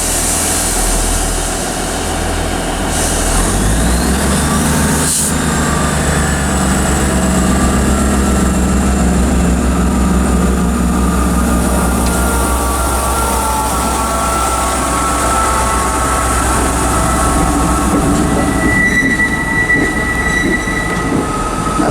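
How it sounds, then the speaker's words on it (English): ScotRail Class 158 diesel unit 158702 at Inverness station, forming a service to Kyle of Lochalsh, with a steady loud engine rumble and rail noise throughout, plus a brief high wheel squeal and station tones, and no talking. "Okay, the partner now is a 1756 ScotRail service to Kyle of Lochalsh."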